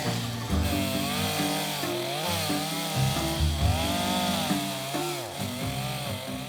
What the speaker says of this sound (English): I've switched to my smaller chainsaw, which has a thinner tip for adding more detail